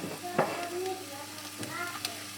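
Ground meat sizzling and crackling in a pan while frying as the topping for pancit, a steady close hiss with a few sharp pops and stirring clatters.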